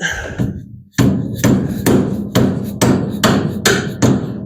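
A hammer pounds on a front suspension bolt of a 1975 Plymouth Duster, striking loud and close in a steady series of about eight sharp metallic blows after a brief opening pause.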